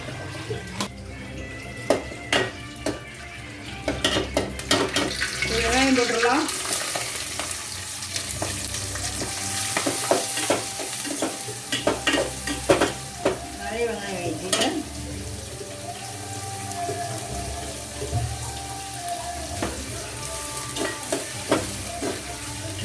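Ingredients for chicken kuzhambu sautéing in a pan, a continuous loud sizzle broken by repeated scraping and clanking as a spoon stirs, running on for a long stretch.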